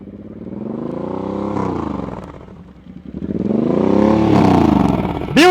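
A motorcycle engine during slow-speed riding practice swells and fades in two long rising-and-falling passes, heard clearly from a short distance without talk.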